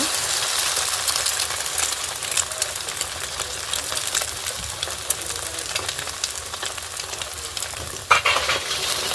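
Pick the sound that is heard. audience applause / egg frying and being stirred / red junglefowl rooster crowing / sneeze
egg frying and being stirred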